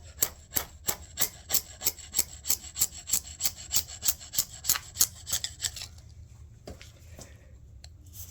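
Hand scraper, a tool scraper reworked into a chisel, scraping a tapered gib coated with Turcite: about fifteen sharp, evenly spaced rasping strokes up close, then quiet with a faint knock.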